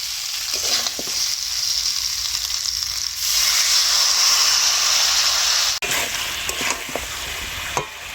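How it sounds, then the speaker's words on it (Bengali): Chicken sizzling loudly in a pan as it is cooked down, a constant close hiss that swells midway, with occasional stirring scrapes and clinks of a utensil. "মাংস কষানোর সময় অল্প একটু জল দেবো।"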